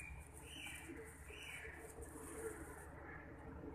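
A domestic pigeon coos softly in a few low, rounded calls, faint against a steady background hum.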